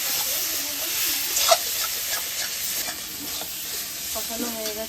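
Prawns tipped into a frying pan over a cooked spice base and stirred, giving a steady sizzle with scraping stir strokes and one brief clatter, close and with no talk.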